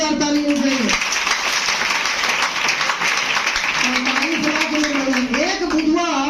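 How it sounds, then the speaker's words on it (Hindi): An audience at a DXN business meeting claps in a dense, loud flurry while a speaker's amplified voice talks over it at the start and again near the end. "एक जोरदार ताली हो चाहिए।"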